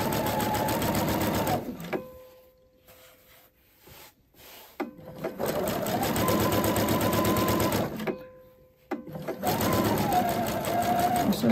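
A domestic sewing machine stitching a V-neck facing, running in long steady bursts with two pauses between, loud and close, its whirring motor and rapid needle clatter alone.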